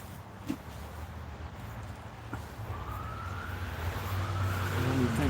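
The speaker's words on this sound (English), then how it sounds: "there's an ambulance in the hood" An ambulance siren wails outside, starting distant and faint, then its rising tone slowly grows louder over a steady low hum of indoor and street background noise.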